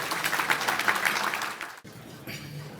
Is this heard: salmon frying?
no